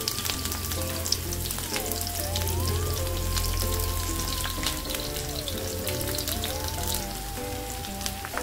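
Onion slices and garlic frying in a pan make a steady, close sizzle with soft crackles, running continuously under background music with no talk.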